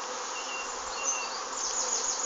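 Bees swarming around a modern polystyrene hive in an apiary, a dense continuous buzzing drone close by, with individual insects flying past the microphone.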